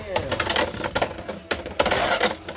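A Beyblade X Weisstiger 3-60U, tilt-launched at an angle, spins with loud, fast, gritty rattling and clicking right after launch, with excited talk over it.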